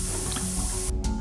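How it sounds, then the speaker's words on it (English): Green dinosaur bath fizz egg with a T-Rex inside fizzing in water, a steady hissing, crackling fizz with small bubbly pops, close and continuous without talking. "Wow, they're fizzing so fast."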